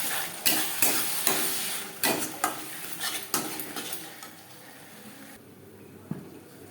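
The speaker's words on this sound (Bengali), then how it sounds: "এইভাবে লো ফ্লেমে যদি অনেকটা সময় ধরে মশলা কষানো যায়, রান্নার স্বাদ খুবই ভালো হয়" Spices with crushed garlic and a little water frying over a low flame in a pan for a Bengali aar fish curry, steady sizzling under repeated scraping stirs of a spoon against the pan, close up, no talking.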